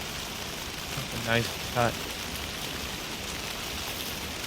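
Steady rain hiss in the video game Alan Wake 2, a constant even wash beneath a brief spoken phrase from a player.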